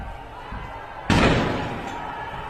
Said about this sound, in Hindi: ये देखें रिपीटर के साथ सीधे फायर मार रहे हैं।